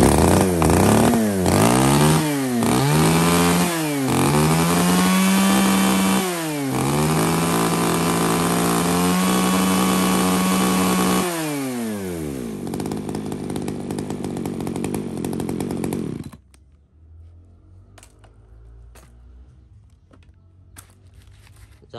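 A Japanese chainsaw runs loud and close, its two-stroke engine revved up and down in repeated surges before holding high, then cutting out abruptly, leaving faint room noise.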